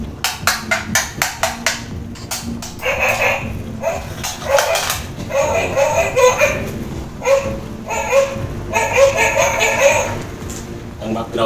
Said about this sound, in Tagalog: Ang background pa yung aso